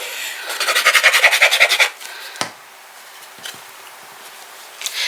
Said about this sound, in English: And then I'm going to use this Weird Memory Keepers tool.